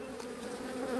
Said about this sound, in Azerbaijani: Amma boyda erkək arılar var.